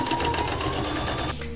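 Serger overlock machine stitching the seams of a bathrobe made from thrifted towels, a steady, fast, close mechanical whir that runs continuously and eases off near the end.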